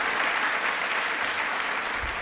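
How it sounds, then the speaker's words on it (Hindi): Studio audience applause on a televised Rajasthani quiz show, rewarding a contestant's correct answer. A brief, dense wash of clapping runs evenly for a couple of seconds at moderate level, with no voices over it. "बट एक बार तालियां जोरदार,"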